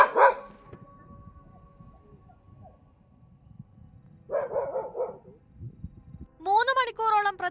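A pet dog on a Kerala farm barks at a wild tusker elephant raiding a jackfruit tree, with a sharp bark at the start, another burst midway and higher whining yelps near the end, separated by quiet stretches.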